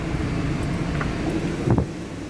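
A cold 1995 Toyota Tercel engine labors under load at idle, a low, steady rumbling drone with a brief rougher surge near the end, no voices.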